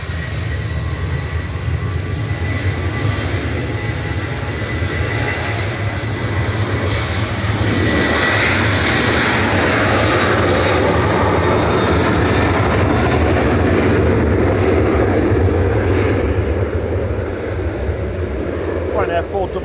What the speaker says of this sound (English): Ryanair 4007 to Alicante departing there, 737-800 EIESD